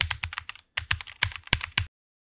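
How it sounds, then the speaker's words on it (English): Quick bursts of keystrokes on a computer keyboard as a stock ticker is typed into a trading chart's search bar, three close clusters of clicks with a short pause between, crisp and near, no voices. "type in Tesla,"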